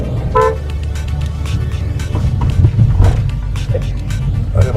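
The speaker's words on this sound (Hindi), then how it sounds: "बस एक बार हॉर्न देने की थी" A car horn toots briefly near the start over steady engine rumble and road noise inside a vehicle on a road trip from Digboi toward Bhalukpong in Arunachal.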